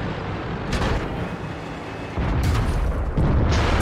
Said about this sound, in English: Pretty sure artillery.